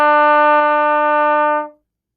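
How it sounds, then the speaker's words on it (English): A trumpet sounds a single sustained E fingered with valves 1 and 2, a steady bright tone held for nearly two seconds before stopping cleanly, loud and close with no talk. "E is 1 and 2."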